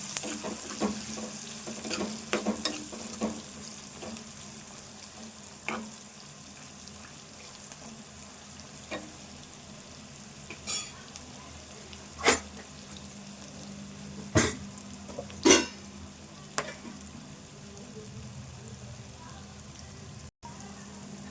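Onions fry with turmeric in a pan, giving a low, steady sizzle under quiet kitchen background. A spoon scrapes and knocks against the pan now and then in sharp, sporadic clicks.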